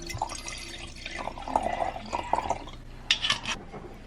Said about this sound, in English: I'm gonna pour some rosé